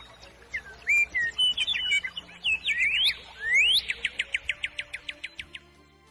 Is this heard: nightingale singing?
yes